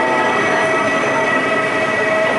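A train bound for Kortrijk from Brussels makes a loud, steady rumble with high tonal wheel whine and squealing held throughout, close and without voices.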